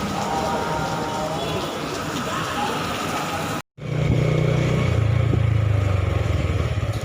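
A motorcycle engine runs close by on a morning market street in central Jakarta, a steady low drone with a noisy wash over it, then a brief cut and a louder, firmer idle hum.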